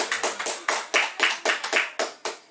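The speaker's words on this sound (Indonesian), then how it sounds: "kita kasih tepuk tangan dulu" A small studio audience claps in quick, distinct bursts, each hand strike sharp and close, forming an uneven rhythm for a couple of seconds.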